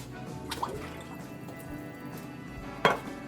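Canned tomato puree plopping and dripping into a pot, soft wet glugs with a sharper splat near the end, close and fairly quiet, no talk.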